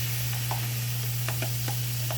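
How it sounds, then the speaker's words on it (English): Onions, tomatoes and pepper sizzle and are stirred in hot oil for a Guyanese-style meal, with a steady low hiss, a constant low hum beneath and a few soft clicks of stirring. "Oil is hot. So I'm going to start with the onions, tomatoes,"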